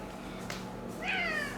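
A pet cat lets out a single short meow close by in a quiet home, a rising, whiny call near the end of the moment with faint room noise around it.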